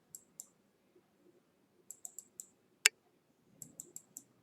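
Computer mouse clicks while working in Inventor software: a few light, quiet single and double clicks in small groups, one sharper click in the middle, close and dry, with no speech.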